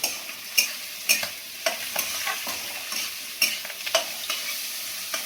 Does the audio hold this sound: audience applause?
no